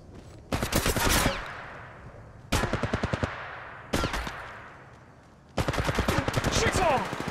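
Automatic gunfire in the battle royale game Apex Legends Mobile comes in four loud, close bursts of rapid shots with brief pauses between, each trailing off in a short echo, with a player's voice faintly present.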